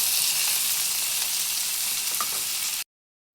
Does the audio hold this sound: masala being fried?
yes